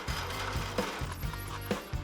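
A hole saw cuts a 1-inch hole through metal in a garage workshop with a loud, rattling, ratchety grind that pulses in rhythmic surges as the teeth bite.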